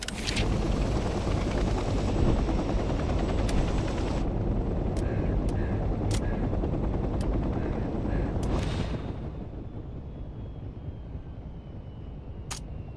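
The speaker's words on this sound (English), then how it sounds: "Now let's redeploy next to a transport helicopter." In the video game Hell Let Loose Vietnam, a transport helicopter's steady, loud rotor roar dominates, broken by sharp clicks, then the engine noise drops to a lower rumble.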